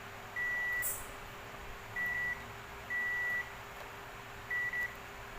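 Multimeter continuity beeps while testing BD139 and BD140 transistors in a 150-watt OCL power amplifier, four short steady electronic tones in an irregular sequence over a faint background hum.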